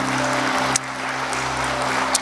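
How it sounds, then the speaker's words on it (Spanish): A church congregation applauds together in steady, dense clapping that holds for about two seconds with no voices, during a worship service. "creo que Cristo merece un fuerte aplauso por la obra que ha hecho"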